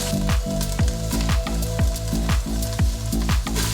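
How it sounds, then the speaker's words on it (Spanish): Chopped onion sizzles in hot coconut oil inside an Instant Pot, a steady frying hiss broken by rhythmic scraping strokes as a spoon stirs the pan, with a low hum beneath. "Veo que ya está suficientemente caliente, así es que vamos a agregar la cebolla."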